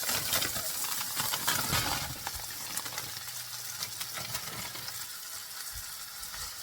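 Frozen potatoes hit a hot pan as the first of two batches, giving a loud, steady hiss and crackle of frying up close that eases slightly after a couple of seconds but keeps sizzling.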